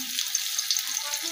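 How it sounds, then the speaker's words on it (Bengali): Raw onion hits hot oil in a pan with a torn bay leaf over a lowered gas flame, giving a close, steady, crackling sizzle. "এবার কাঁচা পেঁয়াজটা দিয়ে দিলাম"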